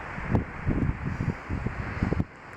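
Strong gusts of wind in Madagascar buffet the microphone in a steady, low rumble, with rustling bursts rising and falling throughout.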